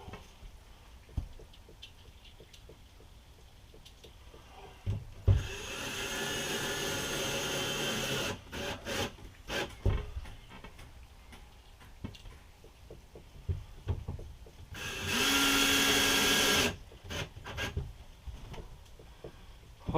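A power driver drives the last two screws during an RV electrical upgrade, two loud sustained whirring bursts separated by quieter handling clicks and taps, close by.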